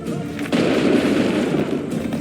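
A musket volley in Assassin's Creed 3, a loud booming crack of many guns fired together, followed by a sustained rumbling roar of smoke and echo that fills the scene.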